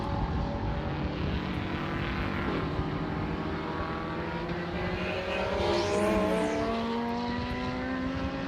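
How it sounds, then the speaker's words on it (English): The number 19 Corvette race car roars past the line at Sebring, a loud engine drone sweeping through with a rising then falling pitch as it passes, joined by other engine noise from the circuit. "that thundering Corvette number 19 comes by the line"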